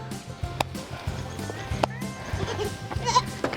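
Baby goats at a goat farm bleating in short, scattered calls, a few higher wavering cries rising near the end, against low shuffling and faint voices.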